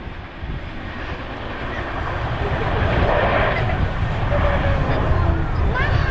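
RAF Chinook helicopter of 27 Squadron flying at an airshow, a steady broad rotor and engine roar building gradually louder from a distance, with a commentator speaking over it.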